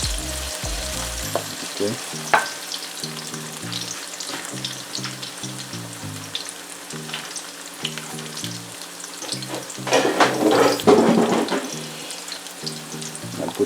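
Saltfish frying with garlic, onion and allspice, a strong continuous sizzle with stirring scrapes and a busier burst of crackling near the end, under background music, with a brief spoken word.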